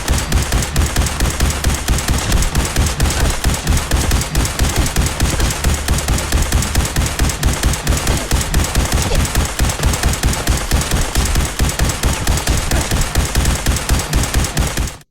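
Rapid automatic gunfire from a fusion-core-powered weapon in a video game, a loud, dense, evenly spaced stream of shots hammering nonstop for the whole stretch before cutting off abruptly.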